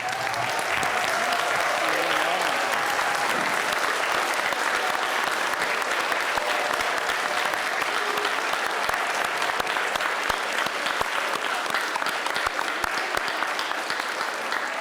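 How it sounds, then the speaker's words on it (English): Sustained applause from a standing audience at a candidate forum in a school, steady and dense for the whole span with no pauses. "Let us once again show our appreciation by standing and presenting a final rousing round of applause"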